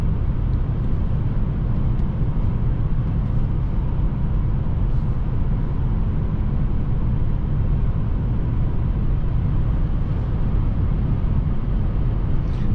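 Cabin of a 2021 Mercedes S Class AMG cruising on the highway at 130 km/h, a steady low broadband road and wind roar with no voices over it.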